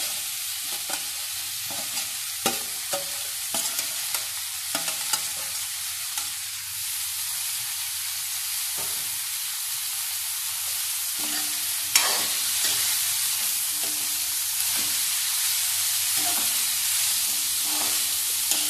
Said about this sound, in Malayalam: കടുക് പൊട്ടിക്കഴിയുമ്പോൾ നമുക്ക് അതിലേക്ക് അരിഞ്ഞു വെച്ചിരിക്കുന്ന പപ്പായ ചേർത്ത് കൊടുക്കാം.